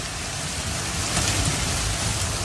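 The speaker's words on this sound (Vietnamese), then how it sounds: "chưa bao giờ trời mưa to một cách dã man như này vào ngày 30 Tết" Heavy rain pours down on Lunar New Year's Eve in Vietnam, a dense, continuous hiss of water with a low rumble underneath, loud and unbroken throughout.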